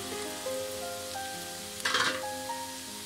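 Cut parotta pieces and green chilli sizzle in a hot pan, a steady crackling fry under faint tonal hum, with a brief louder burst of spitting oil near the middle.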